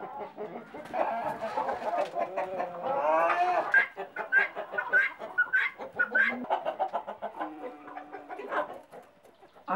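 Hens in a poultry breeding house cluck and squawk in a busy, overlapping chorus close by, with rising calls and sharp repeated clucks throughout and no talk.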